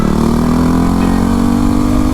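Yamaha WR250R dual-sport motorcycle on supermoto wheels ridden through twisty roads, its single-cylinder engine droning loud and steady at constant revs, close to the rider, with no talk.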